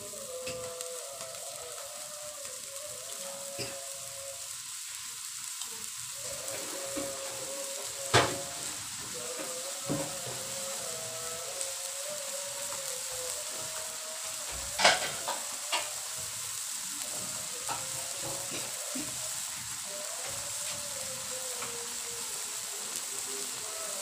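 Beef tendon (kikil) stir-fries with spices in a pan, a steady sizzle punctuated by occasional scraping stirs and utensil knocks, with no voices present.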